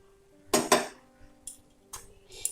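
A metal pot lid is lifted while malai cham cham sweets simmer, giving two sharp close clinks followed by a few lighter metallic taps and scrapes.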